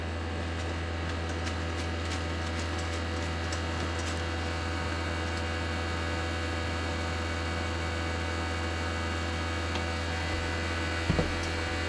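A refrigerant recovery station and vacuum pump pull down a SOFATH heat pump system, giving a continuous low mechanical hum with a faint steady whine throughout and a brief knock near the end.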